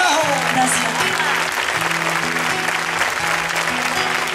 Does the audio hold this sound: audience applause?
yes